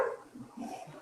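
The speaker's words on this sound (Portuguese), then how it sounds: "Os cachorros acharam de brincadeira aqui na porta." Dogs play at a door, a faint short whimpering yip and low bark-like sounds off in the background, quiet and brief.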